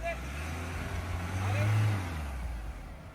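A Mahindra Scorpio N in four-wheel drive climbs an off-road slope, its engine a steady low drone that swells briefly in the middle as it pulls up the incline, then settles.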